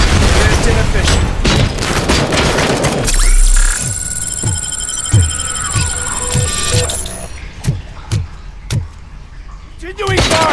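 Gunfire in the game Robocop Rogue City: a dense burst of shots, then a sustained electronic whine over a regular string of single heavy shots, then sparser louder blasts, with a voice shouting over the din.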